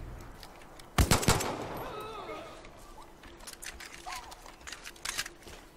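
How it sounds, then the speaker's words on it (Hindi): Machine-gun fire in the video game Far Cry New Dawn: a loud, close burst of rapid shots at once, then scattered fainter cracks and clatter over a steady low background. "और शूट मशीन गन"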